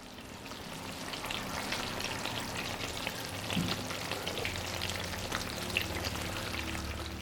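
Thick malai milk cream simmers in a pan as ghee begins to separate, giving a steady close bubbling and sizzling crackle with scattered pops throughout.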